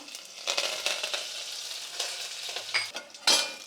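Curry leaves hit hot oil with mustard seeds and garlic for tempering a Karnataka avarekalu soppu bassaru, bursting into sharp, crackling sizzles in repeated surges with light stirring clinks, close and loud.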